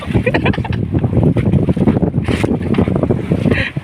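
Strong gusty wind buffets the microphone in rough, uneven bursts, loud and close, with a faint background rumble like water or a boat.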